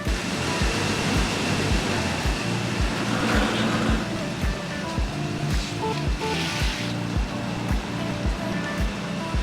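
Beach waves beside a cottage, a steady close wash of surf with rolling swells and low rumble, heard alone without talking.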